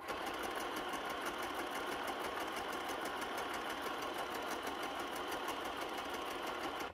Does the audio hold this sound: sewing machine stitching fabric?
yes